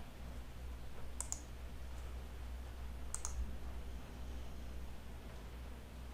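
A computer mouse clicks twice, about two seconds apart, while saving an import map in QuickBooks Desktop 2022 software. The clicks are crisp and close, over a steady low background hiss.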